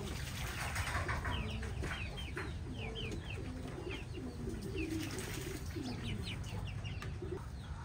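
A flock of American giant pigeons coos steadily through the whole stretch, a busy overlapping murmur of low throaty calls with some bird chatter higher up, close and continuous with no talking.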